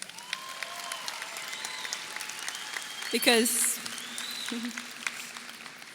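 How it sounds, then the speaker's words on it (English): A high school graduation audience applauds in a large ceremony space, a faint, distant wash of clapping running under a voice speaking over the sound system. "Please give yourself a round of applause."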